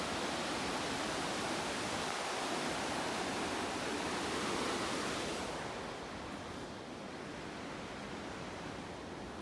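The Smoky River rushes in a steady, dense roar throughout, loud and broadband, heard from a trail in the backcountry with no voices.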